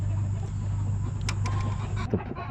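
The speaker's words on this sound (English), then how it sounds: "chickens are making a ruckus" Chickens cluck and squawk nearby over a steady low hum, with a few sharp clatters.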